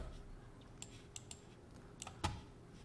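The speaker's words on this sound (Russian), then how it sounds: "Используя клавишу P на клавиатуре P, я вызываю интерфейс." Keystrokes on a computer keyboard, a few sharp isolated clicks at irregular intervals, one slightly louder press near the end, over a quiet steady room hum.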